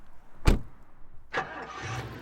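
A car at night with a sharp thump, like a door shutting, followed by the engine catching and idling with a low steady hum.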